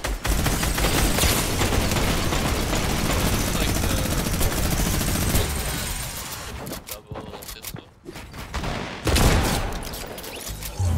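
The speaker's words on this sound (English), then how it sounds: "they tweaked the Brutus minigun, bruh. This shit's very accurate." Brutus minigun firing in Fortnite, a loud, sustained rattling stream of rapid shots lasting several seconds before breaking into shorter bursts, with a few faint voices underneath.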